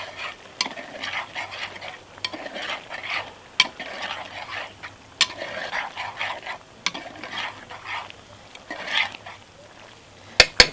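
Beef Panang curry with basil and Thai fish sauce being stirred in a pot outdoors, giving soft scraping and gentle sizzling with sharp utensil clicks, while a dog barks now and then.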